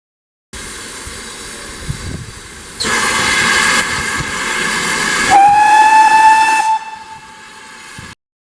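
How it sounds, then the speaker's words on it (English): Great Western Railway 7800 class locomotive No. 7827 Lydham Manor hauling a train along the coast, with steady steam hiss and rumble, then a loud sustained whistle blast rising in pitch before fading back to the running noise. "locomotive pulling our train was the Great Western Railway 7800 class number 7827 Lidham Manor"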